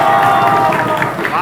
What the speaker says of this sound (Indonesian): tepuk tangan buat kita semua tentunya untuk kelompok A